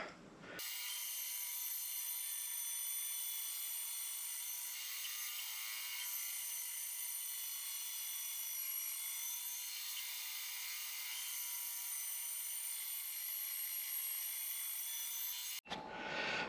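A bandsaw slicing through a wooden baseball bat gives a continuous high whining buzz that holds steady for about fifteen seconds, then stops abruptly.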